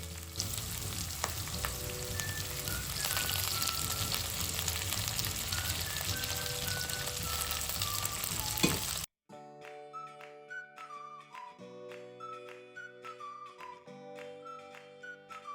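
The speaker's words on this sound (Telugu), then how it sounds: "ఇప్పుడు ఉల్లిపాయ ముక్కలు వేసి కరివేపాకు వేసి బాగా వేయించుకుందాం" Onion pieces and curry leaves fry in hot oil with a dense, even crackling sizzle for about nine seconds. The sizzle then gives way to a melodic music track.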